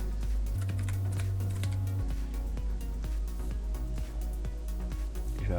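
Text is typed on a computer keyboard in quick, uneven runs of soft clicking keystrokes, close and fairly quiet, with no speech over them.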